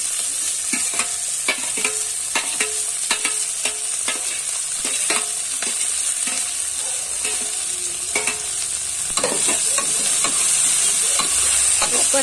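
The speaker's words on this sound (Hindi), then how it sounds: "इसको अच्छी तरह से फ्राई करेंगे।" Cabbage and peas for street-style veg chow mein being stir-fried in a hot pan, a steady sizzle broken by repeated scraping stirs of the spatula at an uneven rhythm, close and fairly loud, with no talking.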